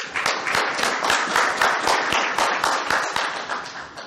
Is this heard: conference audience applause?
yes